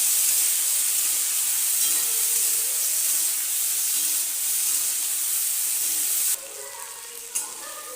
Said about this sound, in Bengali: মাছগুলোকে হালকা করে ভেজে নেব